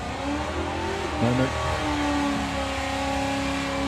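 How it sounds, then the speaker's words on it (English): Drag racing car at a doorslammers drag meet revving hard during a burnout, a steady loud engine drone with rising and falling pitch sweeps, heard from a distance with crowd murmur around. "there's someone doing a burnout below"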